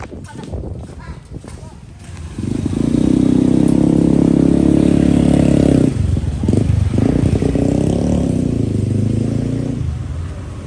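Motorcycle ride on a road from Laos toward Thailand: engine revs up after a couple of seconds into a loud, steady close drone, dips briefly, then continues and slowly eases off, with people talking over it at the start.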